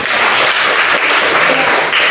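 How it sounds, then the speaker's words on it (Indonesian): Classroom applause after a student group presentation, a dense steady wash of many hands clapping at close range, loud and continuous with no talk. "Beri tepuk tangan dulu."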